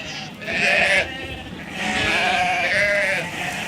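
Ewes from a flock of about eighty sheep on Cap Corse bleat close by in two long, wavering calls separated by a short pause, loud and clear over a faint farmyard background with no talk.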